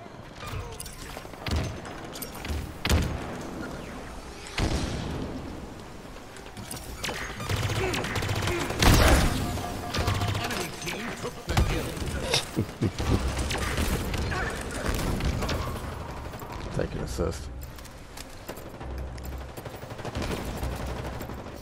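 Gunfire in a Halo Infinite King of the Hill multiplayer match on the Catalyst map, with dense bursts and repeated shots running almost continuously at close range alongside in-game effects.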